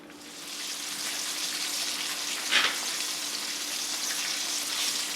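Gluten-free chicken cutlets frying in a pan, a steady close hiss of sizzling oil with one brief spatter crackle midway and no talking.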